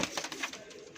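A pigeon cooing at close range, a soft, low, throaty call with a few short pulses in about a second, alone without talk.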